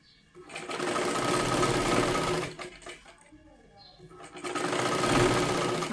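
A sewing machine stitches the lining of a size 36 katori blouse in two close bursts of fast, steady whirring, separated by a short pause with quieter handling sounds.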